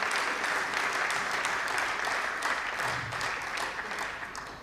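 A seminar audience claps in a dense, steady wash of many hands, filling the room evenly before tapering off slightly at the end.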